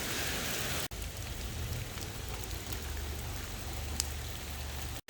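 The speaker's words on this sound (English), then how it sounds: "Could it be a little bit of a clearing in the rain?" Steady rain falling outdoors in Amsterdam, a dense close hiss of drops on surfaces that continues without pause apart from one brief dropout.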